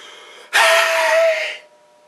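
A voice imitates a reversed gasp, the sharp ragged intake heard just before someone starts crying. It comes as one loud, rasping breath lasting about a second, rising abruptly and then fading out.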